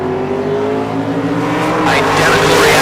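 A 1966 Chevy II and a Corvette, the Corvette run in high gear, launch off the line at a drag race, engines rising into a loud roar with tire squeal while an announcer talks.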